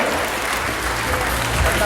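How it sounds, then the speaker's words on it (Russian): Dense, continuous applause fills a hall as beauty pageant contestants leave the stage at a 2013 event, loud and sustained, with a voice faintly underneath. "Под ваши бурные аплодисменты давайте проводим наших красавиц за кулисы"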